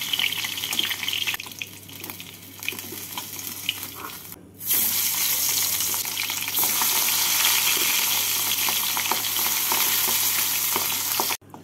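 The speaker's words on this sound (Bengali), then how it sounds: "মাছগুলো ভাজা হয়ে গেছে, মাছগুলোকে তুলে নিচ্ছি। এইভাবে বাকি মাছগুলোকেও ভেজে নেব।" Tangra fish fry in hot oil with a steady close sizzle and crackle that swells louder halfway through, alongside faint stirring and water sounds.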